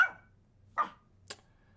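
A small dog gives three short, sharp yips at close range, spaced apart over near silence, the last one thinner and higher.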